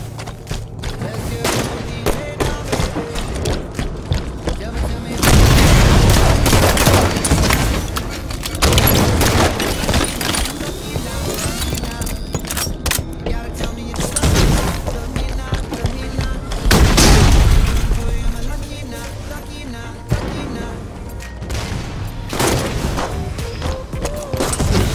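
Sniper rifle gunfire in Minecraft: loud booming shots and bursts of rapid firing recur throughout, with heavy blasts standing out, mixed with mechanical clatter and occasional voices underneath.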